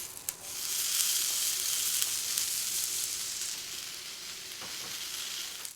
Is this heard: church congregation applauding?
no